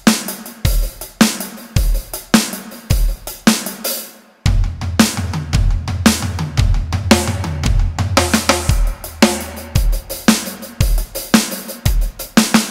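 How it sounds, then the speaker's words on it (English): A close drum kit plays a groove of kick, snare and hi-hat, with steady hi-hat strikes over punchy kick and snare hits, briefly thinning out before the full beat returns loud and driving. "just go over to the hi-hat, and we'll just play kick, snare and hi-hat groove"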